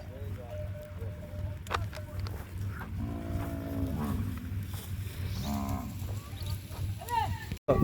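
Cattle low from a herd of cows in Kutch, Gujarat, moving along one after another with bells clanking, over a steady low rumble and nearby talk throughout.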